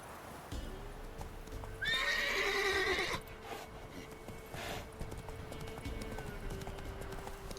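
Roach, Geralt's horse in the video game Witcher 3, gives one clear, loud neigh with a rising and falling whinny, followed by a snort and faint hoofbeats against quiet ambient game sound.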